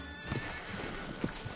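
A horse in a video game whinnies loudly near the start, followed by a few hoof clops and snorts, with no talking.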